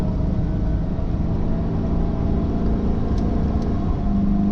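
Ford Godzilla V8 truck engine in tow/haul mode pulling a 17,000-pound trailer up abrupt hills, a steady deep rumbling drone from inside the cab, continuous and unbroken, without speech.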